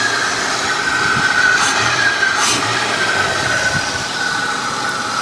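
Engine of a 1997 Pontiac Grand Prix fitted with an aftermarket cold air intake, idling or running with a steady, fairly loud hum and hiss, heard alone with no talking.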